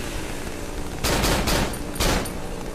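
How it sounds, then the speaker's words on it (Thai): Gunfire in the horror video game Cry of Fear: after a steady background, two dense volleys of shots burst out, one lasting about half a second and a shorter one shortly after, loud and close with no talking. "กูยิงขึ้นฟ้าอย่างเดียวเลย"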